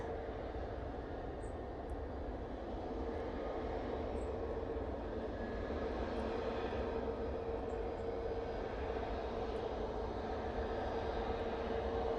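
A Logan Air aircraft lands at Manchester Airport on a windy day, giving a steady, distant roar of engines and rushing air that holds at an even level for several seconds with no voices.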